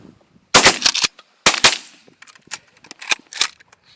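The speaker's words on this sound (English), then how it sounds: "Shot him Cleo." Sharp, loud shotgun blasts during a pigeon hunt come in a quick close pair, then another pair, then a scattering of fainter shots in the field.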